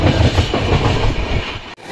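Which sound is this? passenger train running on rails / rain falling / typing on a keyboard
passenger train running on rails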